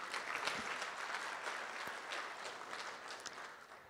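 An audience at the opening of an academic teaching conference applauds for the university management staff, with steady, sustained clapping from a sizeable crowd at moderate distance.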